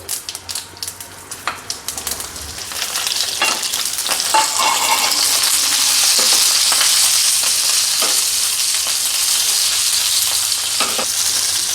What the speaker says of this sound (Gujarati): ચપટી હિંગ ઉમેરશું અને તરત જ આપણે જે મસાલો ભરેલા મરચાં છે ને એ મરચાં કઢાઈમાં ઉમેરી દઈશું.